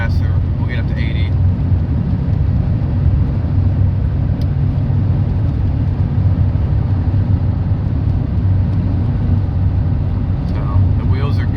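A 1997 Ford F-250 pickup with a 7.3L Powerstroke diesel cruises at highway speed around 70 mph, filling the cab with a steady, loud low drone and constant road roar that never lets up.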